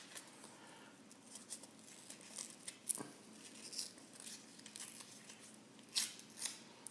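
Envelope paper tearing while starting Carolina Reaper and Ghost Pepper seeds, a few faint, scattered rips and crinkles over quiet room noise with no talking.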